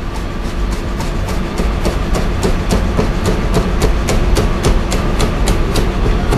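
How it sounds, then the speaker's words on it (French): A knife finely chops fresh mint leaves on a cutting board for a beef bo bun salad. The blade strikes come in a rapid, even rhythm, loud and close, with no talking. "Voilà, donc là on a ciselé de la menthe"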